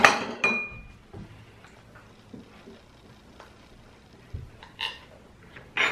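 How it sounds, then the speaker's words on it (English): Fuji apple cobbler with a bottom crust, warm from the oven, scooped from its dish: sharp clinks of a utensil against the dish at the start and a few later, with soft scraping in between. "gonna scoop some out for you."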